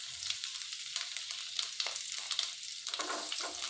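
Chopped ginger sizzles and crackles in hot oil in a pan for capsicum fried rice, a steady close frying hiss with light stirring scrapes throughout, no voices.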